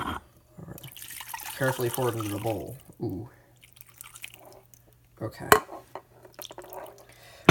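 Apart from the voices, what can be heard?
ramen broth poured into a bowl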